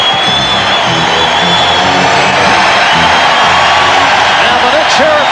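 A large arena crowd roars and cheers in the closing minute of the fourth quarter of a 1994 Nets vs Knicks playoff basketball game, loud and sustained, with an announcer talking over it.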